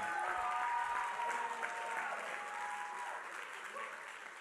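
A church congregation claps and shouts together at a New Year's Eve service, a dense wash of applause with voices rising and tonal cries sounding through it, steady and full, then easing slightly toward the end.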